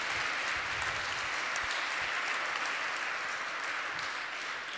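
Sustained applause from a conference audience at the close of a French event, steady dense clapping that fills the whole stretch at an even level, with no voices standing out.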